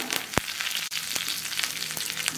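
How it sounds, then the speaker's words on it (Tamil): Mustard seeds and dried red chillies sputter in hot ghee, making a continuous close crackle broken by a few sharper pops. "நெய் சூடானவுடனே கொஞ்சம் கடுகு ரெண்டு காஞ்ச மிளகா கடுகு பொரியுது"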